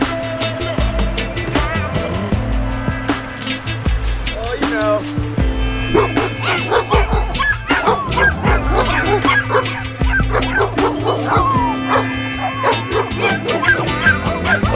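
Dogs bark repeatedly and loudly nearby in overlapping bursts, with yips and whines mixed in over a low rumbling background.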